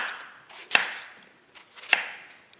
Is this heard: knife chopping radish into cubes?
yes